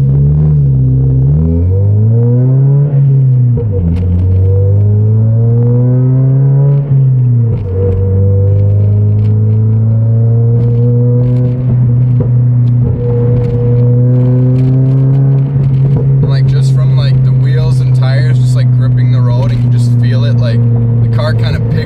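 A 2022 Toyota Corolla Hatchback with a full exhaust, intake and stage 2 tune drones loud and steady throughout, its engine pitch swooping up and down as the revs rise and fall, with higher rasp toward the end.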